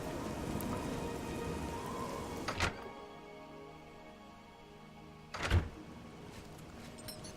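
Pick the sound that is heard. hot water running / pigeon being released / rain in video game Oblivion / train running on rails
rain in video game Oblivion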